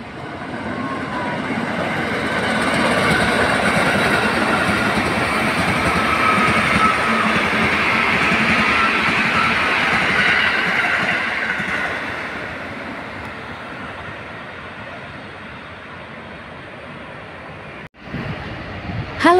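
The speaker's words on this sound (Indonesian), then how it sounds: "hari ini saya meliput kereta KRL Commuter Line di flyover Cakung" A KRL Commuter Line electric train rolls past on the Cakung flyover, a loud broad rumble swelling over several seconds and holding steady before fading, followed by an abrupt thump near the end.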